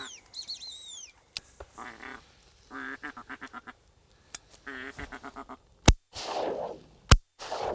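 Ducks quacking in short bursts during a duck hunt in Argentina, with sharp loud gunshots cutting in near the end.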